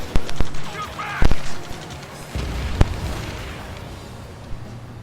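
Gunfire in the Ace Combat 7 video game, a handful of sharp loud shots in quick clusters over a tense battle mix, with shouted voices in between.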